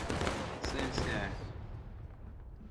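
Musket volley fire in the Civil War game War of Rights during a battle at Cold Harbor: a dense crackling burst of many shots, loud and near at first and then fading into a rumbling tail. Shouted commands can be heard.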